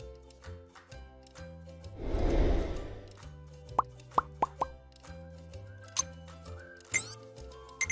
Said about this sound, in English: At this point, you can now add your whitener.